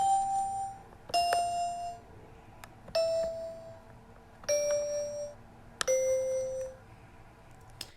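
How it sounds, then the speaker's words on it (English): Five bright sampled toy piano notes ring out one at a time, each a clean tinkly tone with a short decay, separated by brief pauses and stepping down in pitch, with no other sounds. "Basically, this was a toy piano that I sampled."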